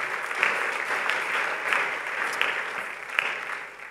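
A church congregation applauds during a Sunday service, a steady mid-sized round of clapping that carries evenly throughout, with no talk over it.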